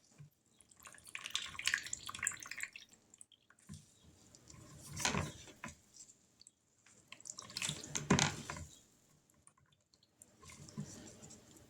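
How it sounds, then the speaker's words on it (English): Tap water runs into a sink while hands are washed, in a home kitchen during jelly making; the flow comes in bursts, with louder splashing gushes around the middle and later, separated by quieter pauses. "Let me wash my hands off."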